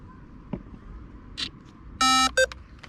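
The ESC of an RC boat powers on with a few faint clicks, then a loud, close burst of sharp electronic startup beeps and a short second beep.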